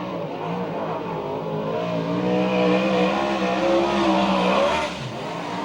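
USAC/CRA sprint car on the dirt oval at Santa Maria, California, its engine roaring loudly and steadily as it passes close by, swelling briefly in the middle before easing slightly, with no talk over it.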